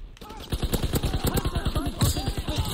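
Rapid automatic submachine gun fire in Call of Duty WW2, a loud, fast rattle of close shots in two long bursts with a brief gap between them.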